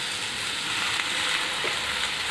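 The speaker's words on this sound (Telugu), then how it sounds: "పచ్చిపప్పు ఫ్రై అయిపోయిందండి ఇప్పుడు బచ్చలి కూర వేసుకున్నామండి" Raw lentils and spinach frying together in a pan with turmeric, a steady, close, continuous sizzle with faint stirring, no talking.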